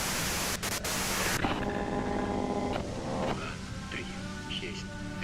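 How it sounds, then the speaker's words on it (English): Loud static-like white noise plays in the video game Disco Elysium, a dense hiss that cuts off after about a second and a half, leaving quieter game sounds with faint talk beneath. "you can do it through the white noise."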